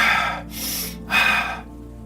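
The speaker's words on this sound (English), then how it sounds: "The repetitive breathing more quickly and deeply," Two quick, deep breaths pushed out forcefully, each a loud rushing exhale lasting about half a second, close and alone with a brief pause between them, demonstrating rapid deep repetitive breathing.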